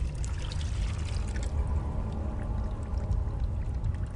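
Liquid pouring into a pot in the horror video game Amnesia: The Dark Descent: a steady, continuous loud gush of pouring that runs the whole time, with no voices.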